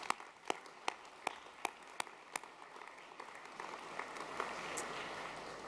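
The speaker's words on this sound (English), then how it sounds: "So can we please give the sports department a round of applause." An audience at an annual sports awards evening applauds: sharp distinct claps at first, then thickening into a steadier wash of clapping that carries on to the end.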